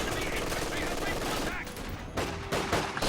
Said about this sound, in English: Riflemen are firing on these Grens unopposed on the right side from their position behind sandbags